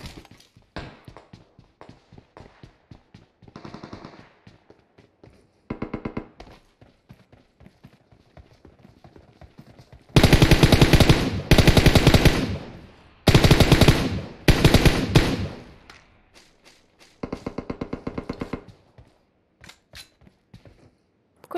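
Gunfire in the mobile battle royale game PUBG Mobile, with repeated bursts of automatic fire, some loud and close and some fainter and farther off, spread across the clip between quieter stretches of single shots.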